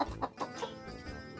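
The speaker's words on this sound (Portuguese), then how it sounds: "Peguei a galinha." A chicken clucks in a short series of four or five quick, close clucks, then fades into soft farmyard background.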